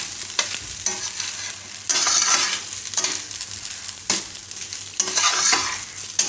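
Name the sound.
stirring broccoli cheese fried rice in pan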